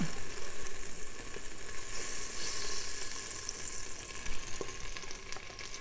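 Butter melting in an Instant Pot on saute mode gives a steady, soft sizzle with faint crackles and pops throughout, close and moderately quiet, with no talking.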